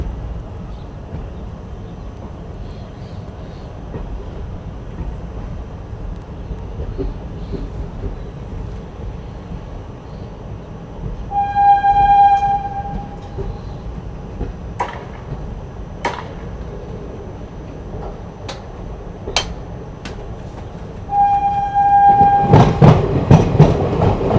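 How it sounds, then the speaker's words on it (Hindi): The Mussoorie Express pulls out of Doiwala railway station, heard from inside an ICF coach: steady rolling rumble with wheel clatter, a couple of sharp horn toots and a louder burst near the end. "चलिए निकल चुकी अपनी ट्रेन जो है डोई वाला रेलवे स्टेशन से।"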